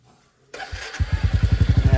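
A motorcycle cold-starts after a moment of near silence: a brief cranking whirr, then the engine catches into a loud, close, rapid pulsing idle.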